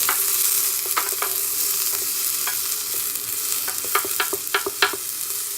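Onions sautéing in a Morphy Richards soup maker are stirred with a few scattered scrapes over a steady close sizzle, the strokes clustering toward the end.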